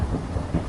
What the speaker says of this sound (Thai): โหนี่เสียงฟ้าร้องอ่ะ